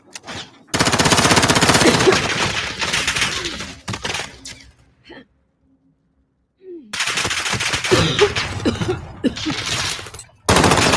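Rapid automatic gunfire in the video game Call of Duty Warzone, loud dense bursts separated by a near-silent gap.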